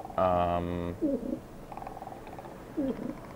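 A bird in Dark Souls gives a brief harmonic call, followed by two short, softer chirps on a quiet, hissy background with no talking.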